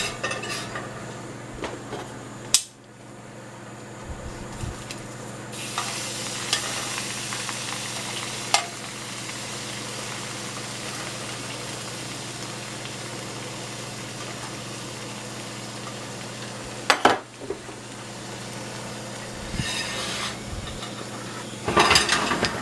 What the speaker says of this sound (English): We can just flip them over and roast the other sides.